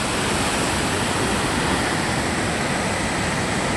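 A waterfall swollen by heavy rain at the Ajanta caves roars as a loud, dense, unbroken rush of falling water, steady and close with no other sounds.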